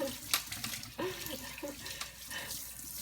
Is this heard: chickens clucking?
no